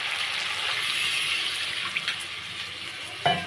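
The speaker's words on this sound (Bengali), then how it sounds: "এখন জল দিয়ে দেবো" Water pours into a pan of vegetable curry with ridge gourd, taro and sweet potato, making a steady, close rushing splash that runs almost continuously before a brief knock near the end.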